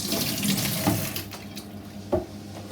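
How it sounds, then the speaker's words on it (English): Hands are washed under a running kitchen tap, water splashing steadily with a couple of brief louder splashes, no talking. "And wash hands."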